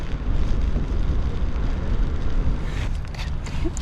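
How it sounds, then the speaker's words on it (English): Rain lands on a jacket close to the microphone on a wet Scottish beach, a steady dense patter blended with gusty wind noise that stays constant throughout. "That's the sound of rain landing on Nicole."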